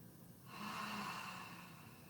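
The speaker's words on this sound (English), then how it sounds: "Opening the mouth, exhaling loud and long." A loud, long exhale through an open mouth during yoga breathing, a single breathy rush that swells and slowly fades, heard close up with no talking.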